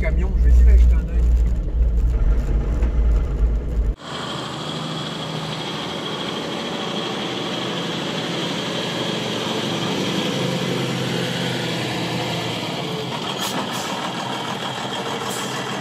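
A 4x4 truck converted into an off-road camper idles steadily, a loud low rumble for most of the stretch, with a heavier, boomier opening before it settles into an even drone.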